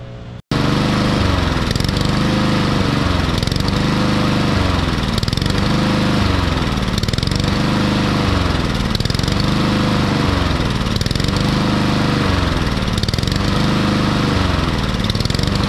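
A lawn mower engine runs continuously to warm its intake, a loud steady drone with a regular rhythmic pulsing throughout, close to the listener.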